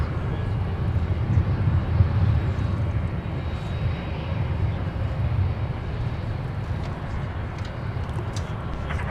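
A UPS heavy cargo jet taxiing to the ramp at Minneapolis airport gives a steady, loud low engine rumble with some wind noise, continuous throughout with no talk.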